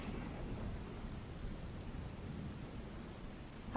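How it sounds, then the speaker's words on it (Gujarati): Faint, continuous patter of heavy monsoon rain in Jamnagar, a soft even hiss with a low rumble underneath, ending with a brief louder bump. "ઠેક ઠેકાણે વરસાદ વરસી રહ્યો છે"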